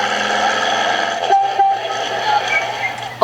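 A toy sound book plays a short, tinny horn-like honk effect, a steady buzzy tone with a brief dropout midway, loud and close.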